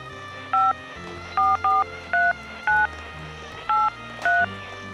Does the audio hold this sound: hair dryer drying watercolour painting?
no